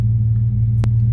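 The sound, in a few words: 1999 four-door S10 Blazer 4.3 V6 engine running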